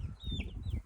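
A rooster raised for a chicken business gives a brief, faint crowing call outdoors, short and alone with no talking.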